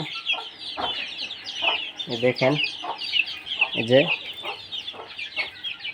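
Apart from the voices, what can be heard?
desi chickens and chicks clucking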